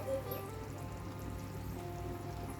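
Water poured into a cooking pot of beef kurma with coconut milk, a steady close trickling splash running continuously with no talk.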